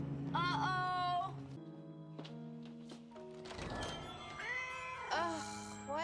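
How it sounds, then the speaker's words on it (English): A cat meows several times, clear and close, with drawn-out rising and falling cries separated by short pauses and a soft thump in the middle. "why does this stupid cat keep hanging Oh, around?"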